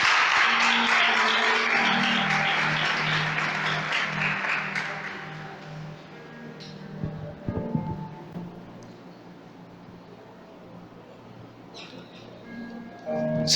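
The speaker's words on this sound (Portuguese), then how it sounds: "Aplaude a Jesus, aplaude a palavra." Church congregation applauding during a Portuguese-language Sunday morning service, a broad burst of clapping that fades over several seconds into room tone with faint taps and background tones.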